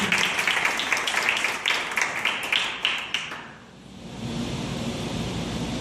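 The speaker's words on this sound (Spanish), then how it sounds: "Vas a aplaudir, hijo, aplauda." A church congregation applauds with dense, scattered clapping that fades out after a few seconds, leaving a steady hiss of room noise.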